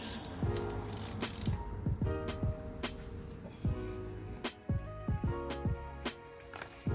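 A ratchet loosens the oil drain plug on a BMW R1250GS motorcycle with rapid, close clicking bursts in repeated strokes, sharp pawl ticks over a faint background hum, and no talking.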